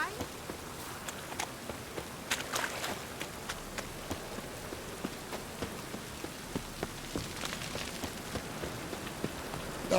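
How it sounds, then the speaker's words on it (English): Steady rainfall in the video game The Witcher 3, a continuous hiss of drops on surfaces with scattered sharper taps and faint footsteps-like patter throughout, no voices standing out. "Must be mad running around in this rain."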